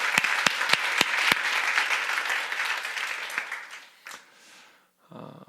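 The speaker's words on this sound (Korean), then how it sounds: "우리 그런 모든 분들을 위해서 다시 한번 우리 축복의 박수 감사드리겠습니다" Church congregation applauding, a dense steady clapping with a few sharp nearby claps at the start, fading out before brief quiet and a final soft sound.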